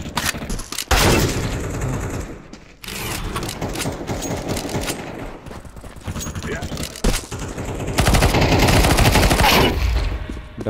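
Rapid bursts of rifle fire crackle through a Counter-Strike 2 deathmatch on the Dust 2 map, loud and dense shots clustering in flurries with brief gaps, while a voice talks over the action.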